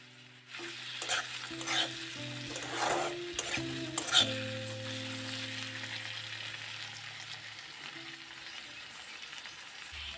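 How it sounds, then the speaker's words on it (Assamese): Chopped tomatoes land in hot oil with spices and are stirred, giving a soft sizzle with scraping spoon strokes and a few clinks, moderately quiet and close, with no talking. "এতিয়া এইখিনিতে কাটি থোৱা বিলাহীখিনি দি দিছোঁ।"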